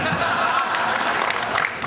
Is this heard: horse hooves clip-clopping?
no